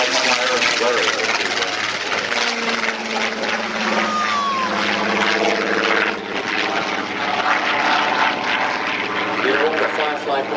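A Fairey Firefly propeller aircraft flying at an air show, a loud continuous droning engine roar that stays strong throughout, with a public-address voice speaking over it.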